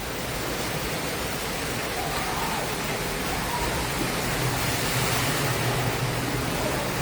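Floodwater rushes through a street after a heavy storm, a dense, steady hiss and roar of moving water that stays constant throughout.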